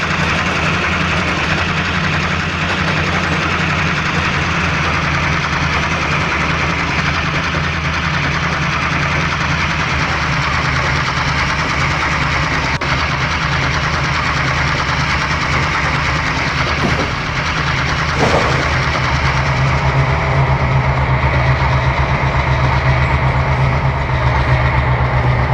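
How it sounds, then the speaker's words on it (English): A railway locomotive's engine runs steadily nearby, a deep continuous throbbing drone with a low rumble that holds constant throughout, growing slightly heavier toward the end. "We can already see the locomotive."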